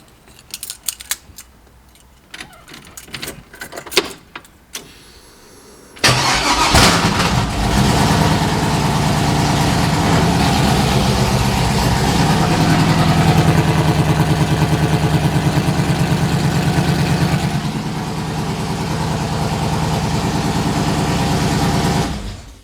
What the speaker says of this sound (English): Let's go ahead and crank her up real quick.